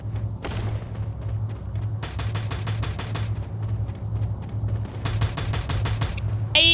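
M1887 lever-action shotgun fire in the Free Fire video game: one blast, then two quick runs of sharp repeated shots over a steady, low, pulsing backing track.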